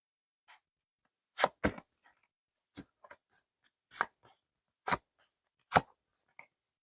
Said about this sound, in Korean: 카드를 추가적으로 뽑아보겠습니다